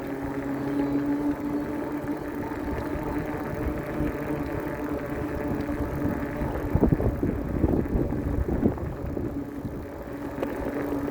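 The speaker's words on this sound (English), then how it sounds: "A little bit of a headwind there, here and there" Steady, loud wind buffeting the microphone during an ebike ride along a canal path in Mesa, with a continuous low rumble and a few gustier swells near the end, with no talking.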